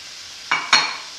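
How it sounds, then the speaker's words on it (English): Sausages browning in a pan with mushrooms just added, giving two brief sizzling bursts close by over a low steady hiss. "Now that our sausages are turning lightly brown, we add mushrooms."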